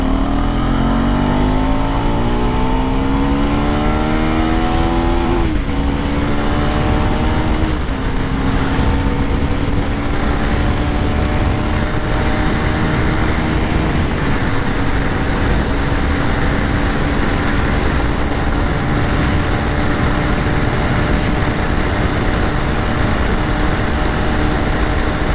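A 2024 KTM Duke 390 motorcycle accelerates steadily in third gear from about 40 km/h. The engine drones loud and continuous with rising pitch, under strong wind roar.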